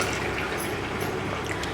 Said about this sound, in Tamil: அதில் அஞ்சு கப் தண்ணி சேர்த்துக்கலாம்